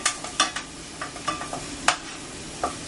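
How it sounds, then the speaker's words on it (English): Shallots sauté gently in a pan for scallops and couscous: a quiet, steady sizzle under sharp intermittent scrapes and taps of a utensil stirring. "I'm going to let those shallots just sort of simmer and saute"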